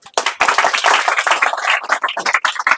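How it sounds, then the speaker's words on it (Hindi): Pupils in a tutoring classroom clap together in a burst of brisk, close, irregular hand slaps that runs loud and continuous for a few seconds with no talk over it. "यूपीएससी, एक बार ताली बजाइए आपको।"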